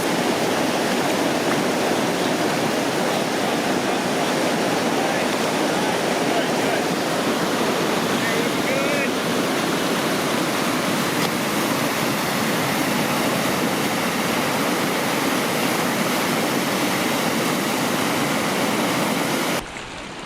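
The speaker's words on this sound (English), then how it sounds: "We made it to the next marked Class 3 rapids, and Cam and Whittle are going to run it." Class 3 river rapids roar in a loud, unbroken rush of whitewater as a canoe runs them, the turbulent noise steady throughout before cutting off at the very end.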